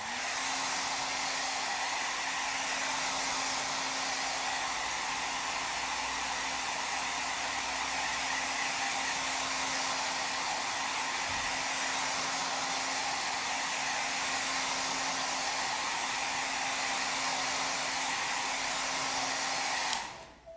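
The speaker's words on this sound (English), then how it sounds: "then we're going to dry that very quickly with the hairdryer" A hair dryer blows steadily and loudly for about twenty seconds, drying a leather repair, a constant rushing whoosh with a low hum underneath, cutting off abruptly at the end.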